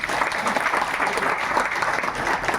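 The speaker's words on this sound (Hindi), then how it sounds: "एक सर के जोरदार तालियां।" Loud applause from an audience at a health product talk, close, dense clapping that runs continuously through the whole stretch without breaks.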